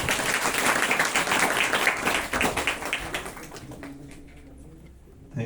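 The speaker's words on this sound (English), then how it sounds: "Give a huge round of applause." A workshop audience applauds to welcome the resource person, starting as a loud spatter of many claps that thins into scattered hand claps and fades toward near-silence, with a faint rustle at the close.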